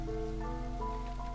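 Rain ambience from the strategy game Against the Storm, a steady soft hiss of falling rain beneath quiet sustained musical tones, low and even throughout.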